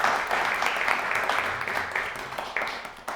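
Dense, steady applause from an audience at a gathering, a continuous wash of many hands clapping at moderate loudness throughout, with a few sharper claps standing out near the end.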